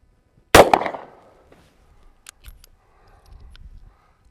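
A single loud, sharp shot from an Altor 9mm single-shot pistol outdoors, followed by a short decaying echo and then faint handling clicks and rustling.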